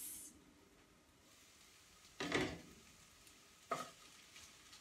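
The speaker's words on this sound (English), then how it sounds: "what we do next is we put in the broccoli florets" Broccoli florets sizzling in a pan while stir-fried for pad thai, a quiet steady fry broken by two short bursts of louder hissing as the food is stirred or tossed.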